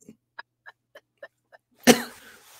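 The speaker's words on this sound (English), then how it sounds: "So maybe interesting that you coughed." A person coughs once, a sharp, close burst with a short rasping tail, after several soft, evenly spaced ticks in an otherwise quiet room.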